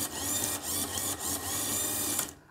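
A small electric drive motor on a Raspberry Pi Devastator robot runs steadily, a close, even mechanical whine with faint rhythmic pulsing that cuts off at the end, no talking.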